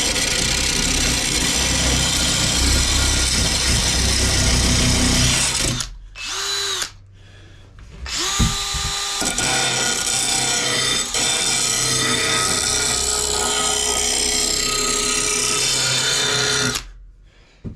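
A power grinder sharpening a lawn mower blade along its beveled edge: a loud, continuous whining grind that stops briefly, picks up again with some clanks, and runs on before cutting off. No talking.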